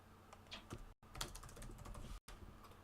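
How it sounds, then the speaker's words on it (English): Quick, faint clacking keystrokes on a computer keyboard as a player types in chat during an online Canadian Highlander card game match, a steady patter of taps with short pauses. "He's typing in the chat."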